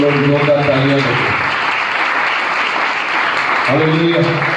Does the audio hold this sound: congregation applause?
yes